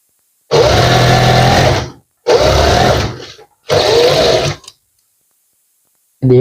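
An electric sewing machine stitches the hem of a men's suit in three loud, steady bursts of whirring, each a second or so long, separated by short silent pauses, with no talk.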